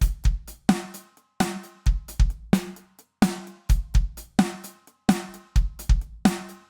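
Drum kit groove with punchy kick and snare hits and an off-beat hi-hat accent, a tight, steady repeating pattern played close and dry with short gaps of silence between strokes.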